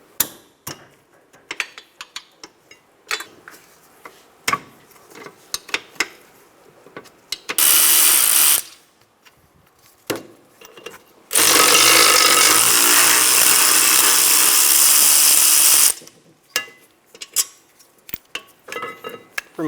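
Bolts on a 2012-2016 Subaru Impreza rear caliper bracket are removed with a 14mm tool, sharp metallic clinks and taps broken up by two loud sustained bursts of power-tool whirring.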